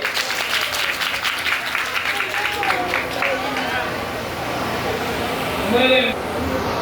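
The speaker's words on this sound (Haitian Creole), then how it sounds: "applaudissez pour moi" Applause from an audience at a celebration, a steady wash of clapping and crowd noise that carries throughout, with a brief louder burst near the end.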